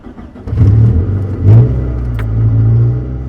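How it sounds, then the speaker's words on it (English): A 1998 Toyota Tercel with a rebuilt engine starts and pulls away on a test drive, its mid-pitched engine revving up in surges and then holding a steady drone, close and loud. "the car does start and drive"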